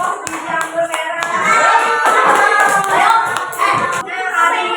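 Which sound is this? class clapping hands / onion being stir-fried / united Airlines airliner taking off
class clapping hands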